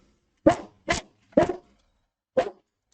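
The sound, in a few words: dog barking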